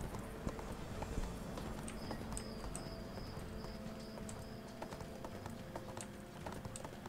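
Hooves clip-clop steadily as a horse is ridden in the ArcheAge video game, quick even footfalls under ambient game sound with a faint insect-like trill.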